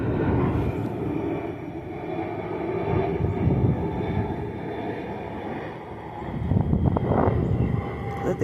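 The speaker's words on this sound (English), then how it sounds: "Let's wait for the plane to go by." A propeller airplane passes overhead outdoors, a loud continuous broadband engine roar that swells and stays steady throughout, with no voices.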